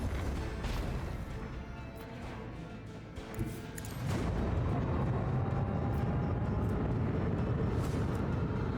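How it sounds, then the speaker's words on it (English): Macro cannons fire in the space battle game Rogue Trader, a sustained roaring barrage with crackling impacts and a sharp thump near the middle, after which the roar grows louder and denser. "Macro cannons, open fire."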